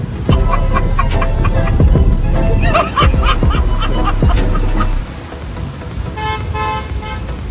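Car horns toot repeatedly and loudly in stalled city traffic near Pune's Aga Khan Palace, several overlapping honks over a dense engine and street hum, with a voice briefly audible.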